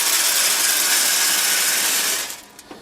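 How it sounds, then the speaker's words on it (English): Wood pellets poured into the hopper of a Traeger Pro Series 22 pellet smoker, a dense close rattling hiss that runs steadily, then thins into a few scattered clicks as the pour ends, with no talk. "let's fill the hopper with the pellets"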